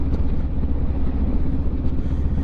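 A motorcycle rides through the streets of the French Quarter with a close, steady, low engine rumble and no talking.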